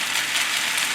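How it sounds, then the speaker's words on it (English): Sake splashing into a hot frying pan during a chicken and vegetable noodle stir-fry, a loud, steady broadband sizzle close by, hissing continuously without a break and with no voices. "While the temperature is still hot in the frying pan, we're gonna add some wine."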